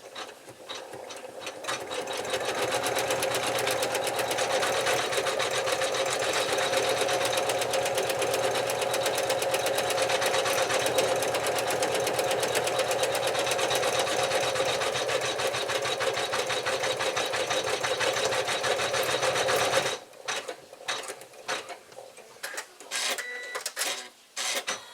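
An embroidery machine stitches out a snowman vinyl feltie, a steady loud mechanical whir and rapid needle chatter for about twenty seconds that then stops, leaving scattered clicks and handling noises.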